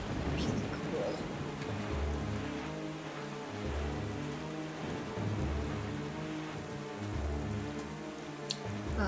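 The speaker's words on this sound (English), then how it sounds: "Storm effect is really cool." Steady rain storm in The Legend of Zelda: The Wind Waker, rain pattering hard on surfaces with distant thunder rumbling, joined by a sustained tonal music layer that continues throughout.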